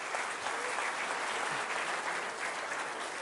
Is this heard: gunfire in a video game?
no